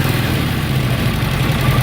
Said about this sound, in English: You hear the motor smoothing out.